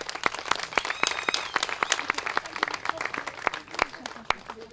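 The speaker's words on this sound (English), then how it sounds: "And if we could give the Woodburys one more round of applause." Applause at a groundbreaking ceremony for a family fitness center: a modest crowd claps with distinct, sparse individual claps, moderately loud and fairly close, continuing steadily throughout.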